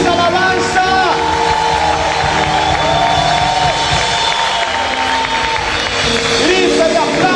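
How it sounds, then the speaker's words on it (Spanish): A church congregation applauds and cries out in praise, a dense, continuous wash of clapping and voices with an amplified voice and music running through it at steady loudness. "Que se escuche ese aplauso, Rey."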